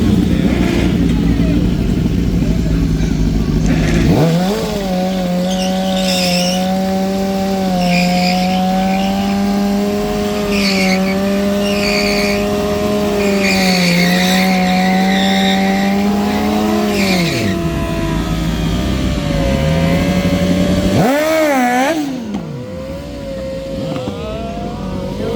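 Cars and motorcycles race on a track at night, their engines roaring and revving loudly and continuously with pitch rising and falling as they accelerate, while a commentator talks over the top.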